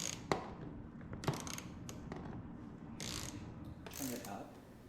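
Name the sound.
ratchet tightening 8mm head bolts on a Honda CRF110F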